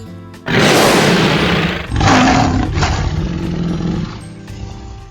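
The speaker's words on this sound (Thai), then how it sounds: "โดยจะให้ราชสีเปล่งเสียงคำรามเพื่อทำให้ชาวเมืองแก้วหูแตกจนสิ้นชีวิต" A cartoon lion lets out a huge, close roar, a long rumbling blast followed by a second surge that trails off, loud and alone without speech.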